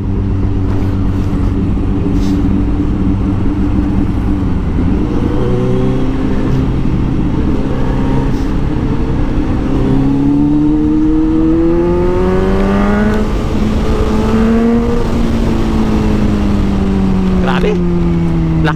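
A powerful Kawasaki Z900 motorcycle engine revs loudly and continuously, its pitch climbing and falling through rising sweeps, with voices talking over the roar.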